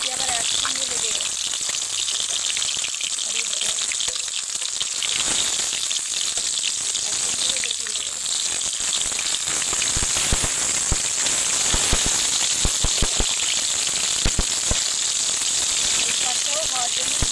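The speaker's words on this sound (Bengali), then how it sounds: "তেল দিয়ে দেবো মাছটা ভাজার জন্য" River fish frying in hot oil in a kadai, giving a loud, steady sizzle and crackle throughout with brief popping bursts.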